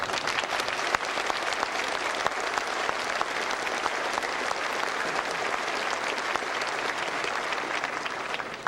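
A graduation audience applauds the faculty and staff in a dense, steady wave of clapping that holds evenly at close range for the whole stretch, with no voices rising above it.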